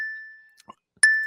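A single bright bell ding rings out and decays slowly, like the bell in Better Call Saul. After a few faint soft sounds a second ding strikes sharply near the end.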